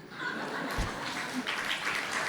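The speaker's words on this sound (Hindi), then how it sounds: "आप बजाओ ताली" An audience at an online satsang gathering claps along, a busy layer of mixed clapping with some chuckling and background voices, moderately loud and continuous.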